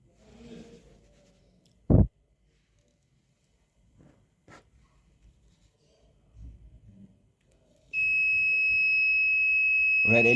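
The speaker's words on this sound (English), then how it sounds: "when the smoke sensor detects fire or smoke, the red LED will be on, this green LED will be off," A smoke sensor buzzer in a mine lift system sounds a steady, loud electronic tone for the final couple of seconds, preceded by quiet rustling, a sharp thump and faint handling noises.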